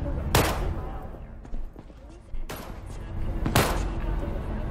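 Three loud, sharp gunshots crack out at irregular intervals at a firing range in Cyberpunk 2077, over game ambience and a voice talking.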